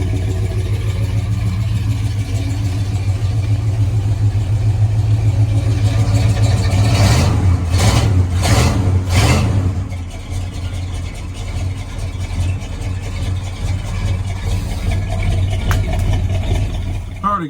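A 1977 Ford F150 4x4 with a near-stock engine idles with a deep, steady rumble, then gets three quick blips of the throttle before settling back to idle, heard close and loud with wind noise.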